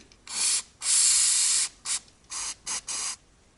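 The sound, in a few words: penetrating oil sprayed on a brake caliper banjo bolt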